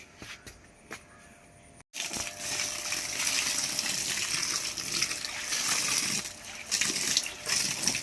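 Water gushes into a container in a terrace garden, a steady rushing pour that starts abruptly after a near-silent opening with a few faint clicks.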